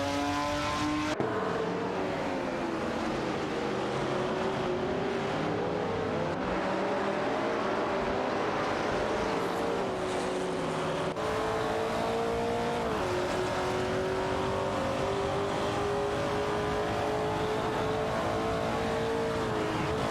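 Engines of a De Tomaso Pantera GTS 72 and a TVR Griffith 200 in a video-game race, a loud steady roar with rising and falling revs and gear shifts running throughout, close up.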